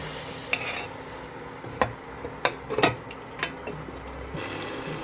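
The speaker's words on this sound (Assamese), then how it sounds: "মাংসখিনি ভালকৈ ভাজিম তাৰপিছত বিলাহী দিম" Chicken pieces fry with garam masala in a pan for biryani, giving a soft background sizzle punctuated by several sharp clicks and scrapes from stirring.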